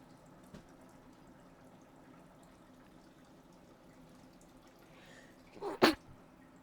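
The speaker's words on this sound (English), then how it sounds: "That was an on-purpose held-back sneeze." A deliberately held-back sneeze, one sharp stifled burst near the end of an otherwise very quiet indoor stretch with faint background hiss and a small earlier click.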